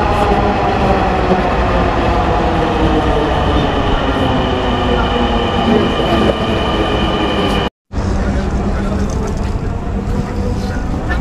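A Dhaka metro rail train rumbles loudly along with passengers aboard, a continuous heavy roar with steady tonal whine from the motors, broken once by a momentary dropout; voices are faint beneath the noise.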